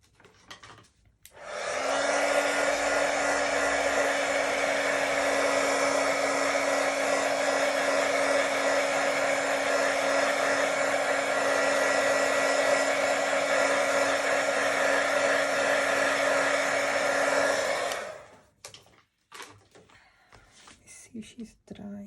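A hair dryer drying a stamped card image runs loud and steady with a constant whine for about sixteen seconds before switching off, followed by faint handling noise.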